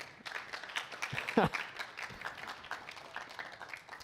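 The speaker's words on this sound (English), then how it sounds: "And one more round of applause for those two gentlemen." Scattered, uneven clapping from a modest crowd at a school band honors night, a round of applause with irregular bursts, voices mixed in among the claps.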